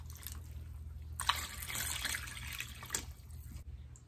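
Water pours from a cup into a crockpot over bouillon cubes, a faint close trickle and splash repeating in a few soft pours with no talking.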